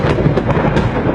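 A thunder sound effect inside an Arabic nasheed rolls as a loud, dense, continuous rumble with a few brighter cracking swells, and no voice is heard.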